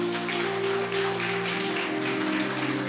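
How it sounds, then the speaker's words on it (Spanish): A church congregation claps during a Catholic preacher's service, a steady wash of many hands patting over sustained organ-like tones, moderately distant and even throughout. "Un aplauso al Señor."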